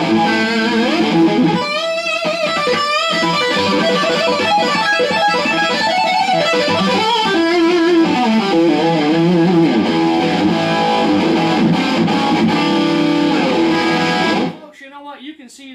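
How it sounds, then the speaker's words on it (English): Heavily distorted electric guitar through a JH-3 Overdrive Distortion pedal plays a dense, loud riff for several seconds, then cuts off abruptly into near silence. "you can do any form of great distortion"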